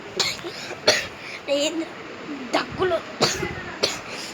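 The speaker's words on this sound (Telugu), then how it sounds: "దగ్గులు వస్తున్నాయి." A person coughs close to the microphone, giving about half a dozen short, harsh coughs and throat clearings in an uneven series, with some talking between them.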